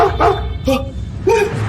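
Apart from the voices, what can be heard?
dog barking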